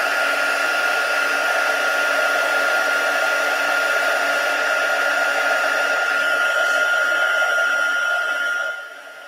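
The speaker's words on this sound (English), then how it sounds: "So I'm just going to heat set these." A heat tool blows a steady, loud, even whoosh for about nine seconds while setting ink on a handmade card at a craft table, then cuts out abruptly at the end.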